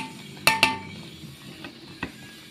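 Fried cashews being stirred into sweet dry vermicelli in a pan, with two sharp clinks of a spoon against the metal close together, then softer scraping and a couple of fainter taps.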